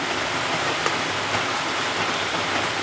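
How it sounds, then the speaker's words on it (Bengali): Heavy rain makes a dense, even roar of broadband hiss that stays steady and fairly loud throughout, with no distinct drops or voices. "জোর বৃষ্টি নেমেছে"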